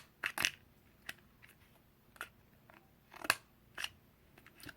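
Scissors snipping through paper flower petals for a craft wreath, a series of crisp close clicks and crunchy cuts at irregular intervals, quiet, with no talking.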